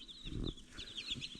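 Chickens crossed from Jersey Giant hens and farm roosters make soft, low clucks close by on a farm, a brief murmur of calls with a few higher chirps.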